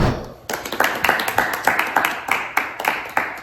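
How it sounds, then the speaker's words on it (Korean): A small group of people claps in a steady, fairly quick rhythm, each hand clap distinct and close by, the clapping continuing evenly at moderate loudness without voices over it. "박수! 박수!"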